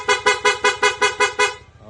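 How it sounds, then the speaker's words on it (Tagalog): A loud, bright PIA horn on a Honda ADV160 scooter, set to rapid mode, blares in eight quick, evenly spaced pulses, then cuts off. "PIA horn."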